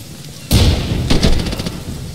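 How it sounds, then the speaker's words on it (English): Grenade explosion in the Insurgency video game, one sudden loud blast with a noisy rumbling tail and a second burst of debris-like crackle, close and alone. "Grenade out!"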